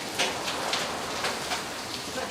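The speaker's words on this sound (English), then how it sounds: "It's really raining out there." Heavy rain drums steadily outdoors, a dense constant hiss with faint ticking drops, no voices present.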